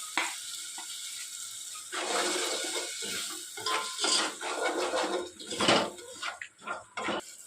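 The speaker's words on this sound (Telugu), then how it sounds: "వేసుకున్న తర్వాత పచ్చివాసన పోయేదాకా మనం ఫ్రై చేసుకుందాం." Onions and a ground masala mixture frying in a pan for okra masala curry, with a continuous sizzle broken by scraping and stirring clatter close by, no voices.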